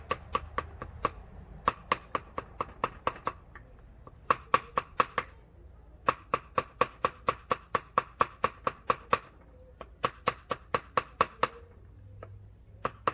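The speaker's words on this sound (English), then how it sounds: "I'm just going to chop it." Dove meat is chopped by hand with a sharp knife on a cutting board, Hmong style, in steady bursts of rapid, crisp knocks with brief pauses between runs, close and clear with no talking.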